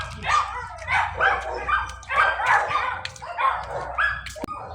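A dog barks in repeated yelping, whining bursts, roughly five of them in a steady rhythm, close and fairly loud, with no talking over them.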